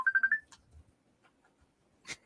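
A mobile phone rings with an incoming call in a quiet room, giving a short burst of four rapid electronic chirps, then falling silent apart from faint small noises and a brief rustle near the end.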